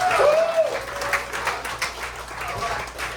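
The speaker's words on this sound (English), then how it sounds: "Give yourself a round of applause." A crowd applauds, with clapping mixed with cheering voices in a lively room for a few seconds.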